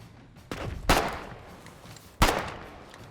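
Grenades explode in the online war game Foxhole: three sharp, fairly distant blasts, the second and third the strongest, each decaying into a short rumble against a faint ambient background, with no talking.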